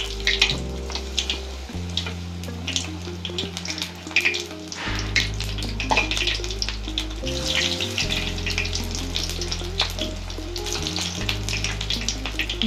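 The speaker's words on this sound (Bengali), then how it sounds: "এর মধ্যে আমরা এক এক করে এগুলিকে দিয়ে দেব এবং গোল্ডেন ব্রাউন হওয়া পর্যন্ত আমরা এগুলিকে ভাজবো" Agati flower fritters fry in hot oil, a loud, steady sizzle and bubbling that runs throughout, with occasional clinks of a utensil.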